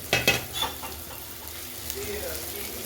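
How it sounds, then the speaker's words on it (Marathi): Sautéed garlic and fenugreek leaves stirred into masala frying in oil, a brief close sizzle with a few scraping stir strokes near the start, then a softer steady fry. "वाटणार तेल सुटले तर आपण याच्यामध्ये टाकून घेऊ जी परतलेली लसूण मेथी आहे ते टाकून घेऊ"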